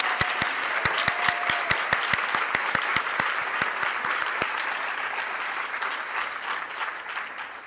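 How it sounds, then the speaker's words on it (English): Audience applause at a transportation summit awards moment, a dense crowd clapping with a few sharp, evenly spaced loud claps near the microphone standing out early, then fading gradually. "Please give a round of applause for our Researcher of the Year."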